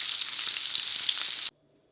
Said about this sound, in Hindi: इतनी देर के लिए फ्राई करूँगी कि गोल्डन फ्राई हो जाए।